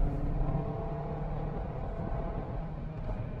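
Maruti Suzuki Ignis manual accelerating hard in second gear during a launch test, a steady low engine drone heard from inside the car, even and moderately loud, no talking.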